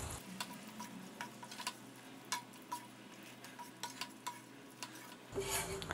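Quiet, repeated spoon strokes stir mushroom bhaji with whisked yogurt in a pan, light taps and scrapes over a faint simmer, with a brief clatter at the end.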